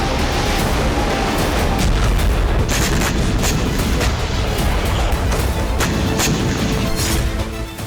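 HIMARS rocket artillery strikes on Russian forces in the Russia–Ukraine war, heard as dense rumbling booms and repeated sharp blasts over a continuous loud roar, fading slightly at the end.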